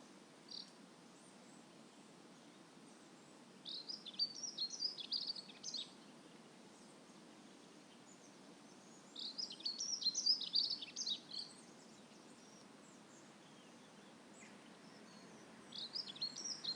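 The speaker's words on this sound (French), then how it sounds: "Les oiseaux vous communiquent leurs messages." Faint high chirping birdsong in short bursts against a quiet, steady background, heard from a distance with no voices present.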